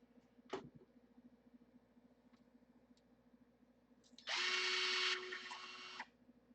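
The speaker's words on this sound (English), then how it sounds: "Stupid motor tool. Dremel, whatever." A Dremel rotary tool cuts in with a loud, steady high-pitched whir lasting about two seconds, then stops abruptly after a mostly quiet stretch.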